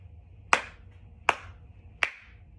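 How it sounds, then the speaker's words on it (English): Three sharp, evenly spaced claps from children beating out the syllables of "celery" during a phonological awareness lesson, close and distinct with quiet gaps between them. "Now you're going to clap it."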